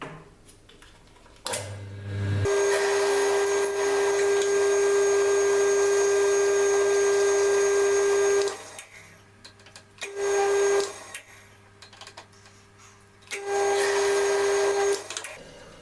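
A big drill bores into a wooden support under a San Mai Damascus kitchen knife handle, a loud steady motor whine running several seconds, then stopping and starting again in two shorter bursts.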